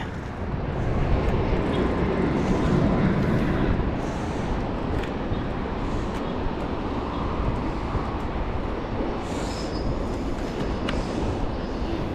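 A train rolls through a station in Japan, a loud rumbling roar that swells early and then holds as a long steady rush of wheels on rails, with occasional higher metallic squeals.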